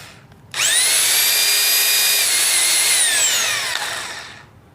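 A Makita HR2470X5 rotary hammer runs in normal drill mode, a loud steady high-pitched motor whine that starts abruptly, holds for several seconds, then slows and fades as it winds down.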